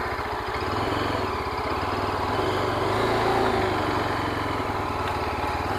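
Yezdi Adventure motorcycle engine running at low RPM, a steady close, loud rumble that holds throughout without pause and with no voices over it.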